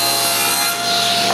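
A saw rips through plywood in a woodworking shop, giving a close, loud, continuous cutting whine for about a second and a half with no talk.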